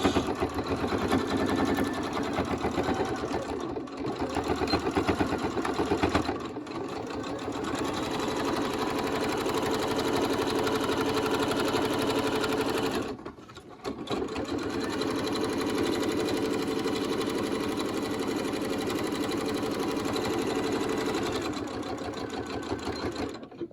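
A sewing machine back stitching a fabric mask runs in long steady buzzing stretches, close and clear, with two or three brief pauses where the needle stops before resuming.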